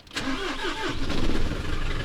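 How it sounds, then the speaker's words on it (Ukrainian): A car engine cranks and catches, then settles into a steady, close running rumble over about two seconds. "Можемо запускать авто, автошечку."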